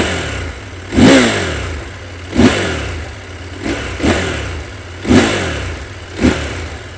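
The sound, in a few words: CFMOTO 1000MT-X motorcycle engine revving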